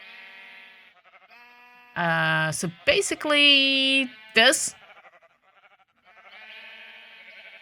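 Loud, harmonically rich sheep bleats from a video game burst out in several drawn-out calls, with a voice talking before and after them.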